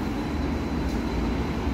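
Electric light rail train in Bergen, Norway, a short tram with few carriages, rumbling steadily and loudly up close with a continuous broad roar and no talk.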